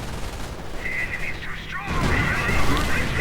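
Heavy anti-tank gunfire in the World War II strategy game Company of Heroes, sharp cracks and a rumbling burst swelling after a brief lull, with a commentator talking over it.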